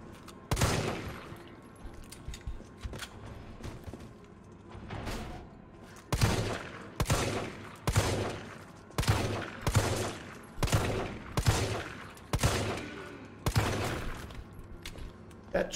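Gunfire in the video game Resident Evil 3 Remake, a series of about a dozen sharp shots fired at a steady, slightly uneven pace, each with a short echoing tail, loud against a quiet game background.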